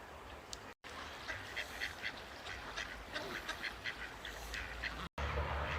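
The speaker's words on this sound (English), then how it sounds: "I'm being followed by lots of ducks." Several ducks on a river quack in scattered bursts over a steady outdoor background of water and breeze, fairly close and moderately loud.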